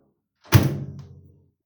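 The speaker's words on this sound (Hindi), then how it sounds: "तो अभी इसका दरवाज़ा बंद कर दिया।" A Haier microwave oven door shuts with a single close, solid thunk and a short rattling decay.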